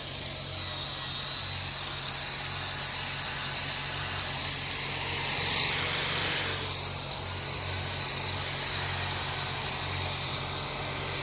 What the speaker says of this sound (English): Then we can start wire brushing. The old grinder out here, boys.